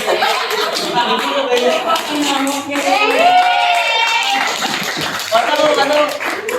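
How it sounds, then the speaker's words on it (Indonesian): A class group in an Indonesian school setting claps together, a dense patter of hand claps mixed with children's chatter and giggles, loud and close throughout. "Kasih aplaus dong untuk kelompok habis semua"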